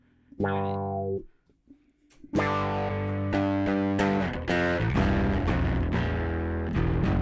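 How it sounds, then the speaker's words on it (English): Bass-focused distortion or overdrive pedal with an instrument played through it, a short distorted chord that breaks off before a longer stretch of overdriven notes and chords, loud and sustained with sharp repeated attacks. "So this is a distortion or an overdrive pedal that I got specifically for bass"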